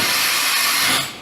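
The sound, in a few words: automatic tool changer on Doosan MV4020 CNC mill changing tools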